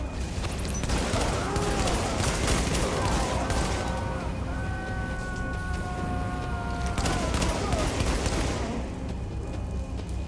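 Dense, continuous gunfire in Tom Clancy's The Division, with rapid overlapping shots and booming impacts filling the scene loudly throughout, mixed with game tones and a brief voice.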